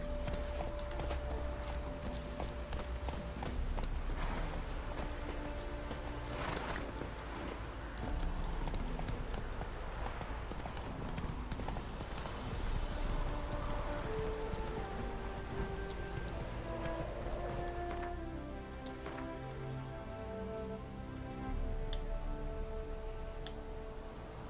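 Geralt's horse Roach gallops in The Witcher 3, with steady rhythmic hoofbeats that carry on under game music and ambient sound.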